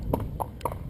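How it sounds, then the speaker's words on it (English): Horse hooves trotting, a quick run of three or four clip-clop beats, close and moderately loud, with no talking over them. "now we're trotting towards home"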